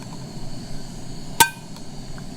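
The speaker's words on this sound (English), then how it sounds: "That's the sound of locking in the handle." A camping stove pot's handle locks into place with a single sharp metallic click, heard alone against quiet outdoor background noise.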